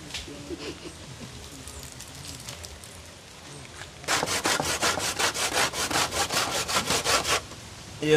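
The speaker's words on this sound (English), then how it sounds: "We will get the coconut then grate up, you know." A coconut is grated by hand during outdoor cooking in a large tree, starting after a quiet stretch as fast, rhythmic rasping strokes that repeat steadily for about three seconds.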